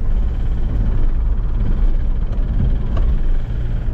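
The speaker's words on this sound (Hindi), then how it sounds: "बड़ी गंदी जी आवाज़ कर रही है कार।" A Volkswagen Polo engine idles with a bad, rough noise, a loud steady low rumble with slight vibration that runs continuously throughout.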